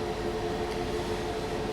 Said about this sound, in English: another freight train is coming up to us